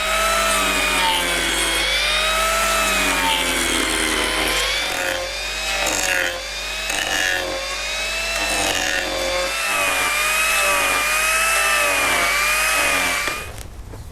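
An Arbortech Turboplane blade on an angle grinder trims the outside of a solid wood tray, a loud continuous high whine with wavering pitch as it bites into the wood, then it cuts off at the end.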